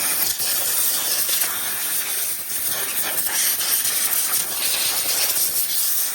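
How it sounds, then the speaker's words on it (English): Compressed air hisses in a loud, steady blast onto the engine of a CF Moto 450MT motorcycle around the spark plug area, a continuous close rush lasting several seconds with no talking. "So I'm just going to blow it off with a bit of compressed air."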